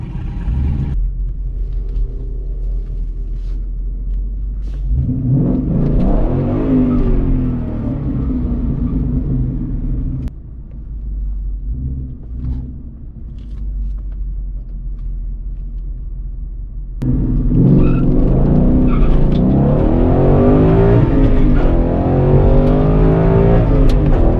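A Coyote-engined Ford Mustang GT more than ten years old rumbles loudly at a drag strip, surging once, easing back, then roaring harder as it launches into a sustained hard acceleration run.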